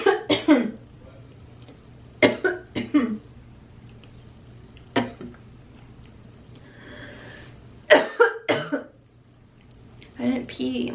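A woman in labor coughs in short, harsh clusters spaced a few seconds apart, close and fairly loud, with quiet pauses between bursts.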